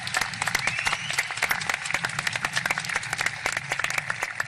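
An audience at a high school graduation applauds graduating construction and carpentry students, steady dense clapping heard at a moderate distance in a large hall, sharp individual claps standing out through the whole stretch.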